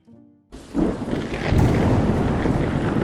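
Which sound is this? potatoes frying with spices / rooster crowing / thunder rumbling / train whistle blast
thunder rumbling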